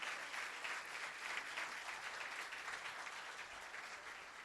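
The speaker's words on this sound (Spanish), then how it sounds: "Un aplauso, por favor." Audience applause at a ceremony of the Sinaloa state audit office, with steady, dense clapping from a crowd that holds an even level for several seconds.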